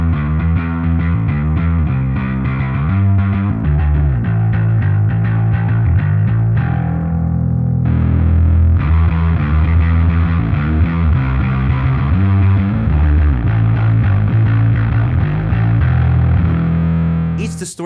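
Electric guitar played through a Cat King drive pedal switching between two distortion levels, with loud, thick chords and riffs ringing continuously, a brief thinner passage midway before full drive returns.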